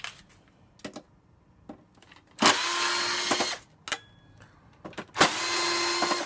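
A cordless power drill spins out screws to open a metal fencing cable reel, whirring in two loud sustained bursts between scattered clicks and handling knocks, close up and without speech.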